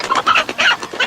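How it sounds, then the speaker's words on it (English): A rooster clucks close and loud in a quick series of choppy calls, with no speech over it. "Stop that rooster."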